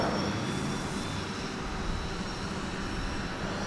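Engine and propeller drone of a radio-controlled Lego airplane in flight, a steady broadband roar held at a constant level throughout with no one speaking.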